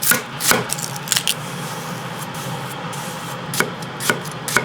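A knife cuts through an onion on a cutting board in a home kitchen, a few sharp chopping knocks spaced across a quiet background.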